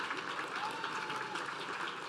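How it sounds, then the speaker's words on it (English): Audience applause for the MC at the 12th annual Long Island Imagine Awards, a steady, even wash of clapping held at a fairly quiet level for the whole stretch. "Let's give her a big round of applause."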